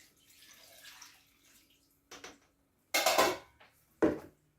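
Tomato water poured out of a kitchen container while making tomato marmalade, a few short splashing bursts with a faint trickle and clatter in between.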